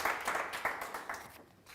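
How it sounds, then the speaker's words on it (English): Brief, fairly quiet applause for a graduation prize winner at an art academy ceremony, a few clusters of claps that fade out within two seconds. "Let's have a big round of applause, please."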